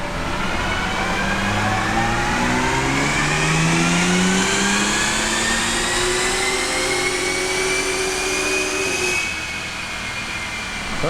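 Bentley Bentayga W12 twin-turbo engine strapped down on a dyno for a baseline run, revving up through the gears with rising whine and roar, loud and close, then easing off near the end.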